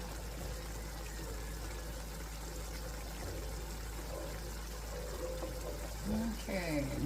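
Water pours into tomato sauce in a home kitchen, a soft, faint trickling that builds toward the end over a low steady background hum.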